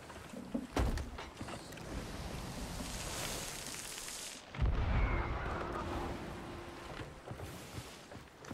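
Ship cannons fire in Sea of Thieves, two heavy booms a few seconds apart, each followed by rumbling wash and creaking deck ambience with sea noise beneath.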